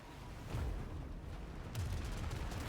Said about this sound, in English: Summons the entire ship and blasts away with its cannons.